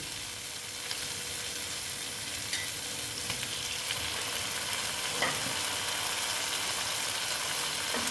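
Chopped tomato frying in a pan for a small-fish chorchori, a soft continuous sizzle with occasional spatula taps and scrapes, close and fairly quiet, with no one speaking.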